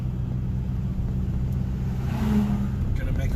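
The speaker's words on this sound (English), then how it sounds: "Alright. Driving up the hill." A car climbs a hill in suburban traffic, its engine a steady low rumble and whir from inside the cabin, holding an even level throughout with a faint swell midway.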